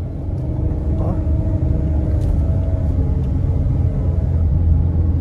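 A manual car engine drones steadily in first gear while climbing a steep hill. The low, constant rumble holds evenly with no clear revving changes.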